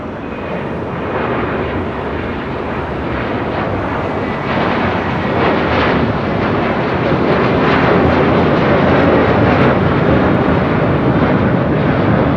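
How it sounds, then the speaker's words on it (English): Spirit Airlines jet departing LAX, a loud continuous engine roar that builds gradually and stays strong to the end, with no talk. "That was Spirit Airlines Flight 890 heading to Louisville, Kentucky"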